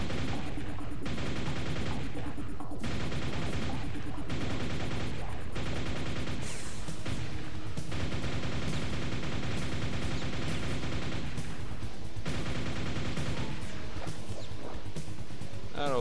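Rocket fire in the video game Quake: Scourge of Armagon, a dense, loud, continuous barrage of blasts and explosions layered with game noise.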